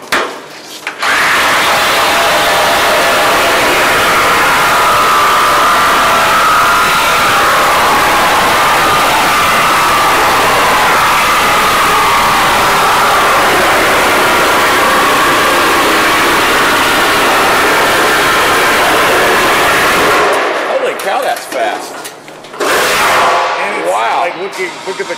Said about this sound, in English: This is a Diablo carbide tip thick metal blade.